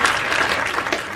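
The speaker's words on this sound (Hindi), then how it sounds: "एक बार जोरदार तालियां भाई" Listeners at a Hindi kavi sammelan poetry recital burst into brief applause, a short dense clatter of clapping that starts at once and fills the moment, fairly loud and close.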